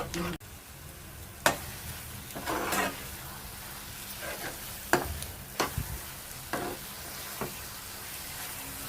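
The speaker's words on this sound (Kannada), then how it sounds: "ಎಣ್ಣೆ ತಳ ಬಿಡುವಷ್ಟು ತನಕ ಫ್ರೈ ಮಾಡ್ಕೋಬೇಕು" Grated raw mango pickle frying in oil in a pan: a steady soft sizzle runs throughout, broken by sharp clicks and scrapes of a spoon stirring against the pan.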